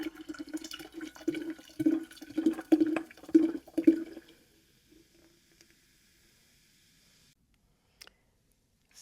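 Kombucha poured into cooled sweet black tea, a few seconds of gurgling, fizzing pours close by, then near silence with a faint bubbling hiss and a soft knock.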